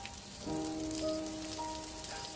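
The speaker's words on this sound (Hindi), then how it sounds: "एकदम से बारिश भी शुरू हो जाती है।" Rain falls on a cold night in a spooky story scene, a steady soft hiss of drops with a faint sustained tonal drone underneath and no voices.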